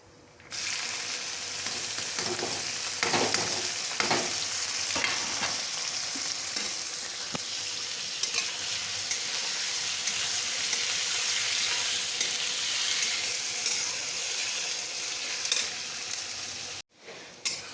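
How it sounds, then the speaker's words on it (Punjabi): Cumin and onions fry in hot oil for pasta, a loud, dense, continuous sizzle close by with a few stirring scrapes, ending in a brief cut to silence. "ਚੰਗੀ ਤਰ੍ਹਾਂ ਹੋ ਗਿਆ ਤੇਲ ਗਰਮ ਹੁਣ ਇਹ ਚ ਪਾਵਾਂਗੇ ਜੀ ਆਪਾਂ ਜੀਰਾ ਜੀਰਾ ਪਾਣ ਤੋਂ ਬਾਅਦ ਆਪਾਂ ਪਾਵਾਂਗੇ ਜੀ ਇਹ ਚ ਪਿਆਜ਼"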